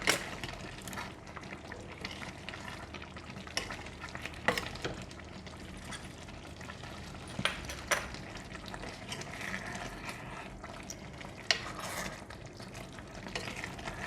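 Stirring of braised chicken with shiitake mushrooms and fresh parsley in a claypot, a continuous soft bubbling sizzle with occasional scraping clicks of the utensil, close and steady, no talk.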